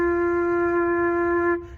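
A flute sustains a single low F, a steady breathy tone held close and alone for about a second and a half before it cuts off.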